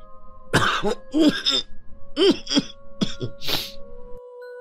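A person coughs several times in short, rough bursts, with a throaty clearing sound near the end; close and fairly loud.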